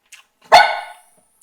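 A dog gives one loud, close, sharp bark, preceded by a faint brief yip, with silence around it.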